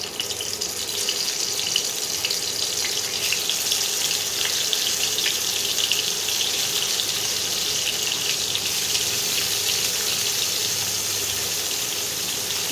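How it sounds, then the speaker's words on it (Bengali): Snakehead (shol) fish frying in hot oil gives a loud, continuous bright hiss and crackle that holds steady throughout without pauses, close by and with no voices. "তেলটা গরম হয়ে এসছে, এবারে আমি মাছগুলোকে আস্তে আস্তে ছেড়ে দিচ্ছি"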